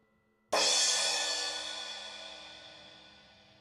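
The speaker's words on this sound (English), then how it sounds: "Here's the crash." A Paiste Signature 14-inch full crash cymbal struck once, a sudden bright wash that rings on and slowly fades over several seconds, heard alone with no talk.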